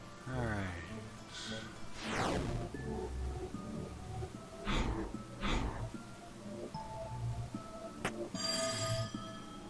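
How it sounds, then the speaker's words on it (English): An old-style telephone bell in the video game There Is No Game: Wrong Dimension rings in short bursts against a soft musical background, a few separate rings spread across the clip. "What was that sound like a ringing bell?"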